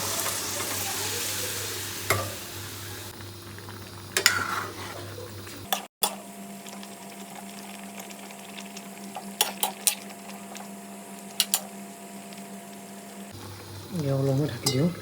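Pork and green bamboo shoots frying in a pan while being stirred, with a steady sizzle, a few sharp utensil scrapes and clanks against the pan, and a person talking over part of it.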